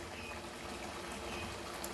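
Water poured from a small cup into tamarind and kokum pulp, a soft continuous splashing trickle close by, with no talking.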